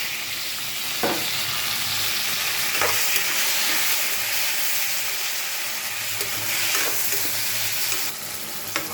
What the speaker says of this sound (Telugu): కొంచెం లైట్గా ఫ్రై చేశాక ఇప్పుడు మష్రూమ్స్ కూడా వేస్తున్నానండి